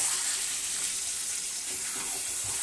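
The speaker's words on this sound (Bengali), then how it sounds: "আলু আর ক্যাপসিকাম সব একসঙ্গে দিয়ে ভালো করে নেড়ে ভালো করে কষাচ্ছি এটাকে।" Potatoes and capsicum with spices fry in a pan while being stirred, giving a loud, steady, close sizzle that runs unbroken throughout with no voices.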